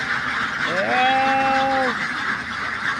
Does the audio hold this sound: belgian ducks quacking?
yes